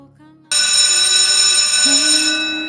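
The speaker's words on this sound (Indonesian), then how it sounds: "Bel pulang sekolah berbunyi." A school dismissal bell rings loud and steady right after a few soft tones, a sustained bright electric ring holding for about two seconds before slowly fading.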